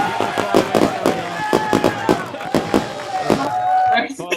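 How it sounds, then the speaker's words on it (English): Fireworks bursting in a rapid, uneven string of loud cracks and pops, with crowd noise and voices in the background, at a beach party setting. "Fireworks and the beach parties."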